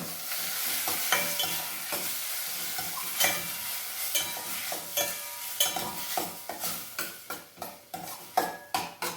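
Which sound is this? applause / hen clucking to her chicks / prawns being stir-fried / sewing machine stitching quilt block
prawns being stir-fried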